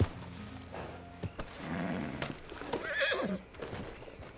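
A horse in Red Dead Redemption 2 lets out a loud, wavering neigh, preceded by a few hoof clip-clops and a snort, close and clear with no speech over it.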